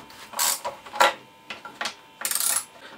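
A ratchet turns an 11 mm socket on the carburetor nut of a Vespa P80 X, giving several short bursts of quick metallic clicking with quiet gaps between them.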